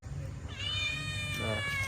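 A cat meows in a drawn-out, rising-then-falling call, close and clear, with a low household hum underneath and a second shorter mew near the end.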